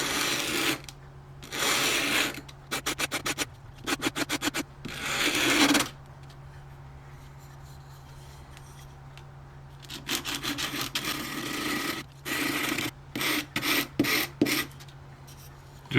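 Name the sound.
sanding a model ship part with 120 grit sandpaper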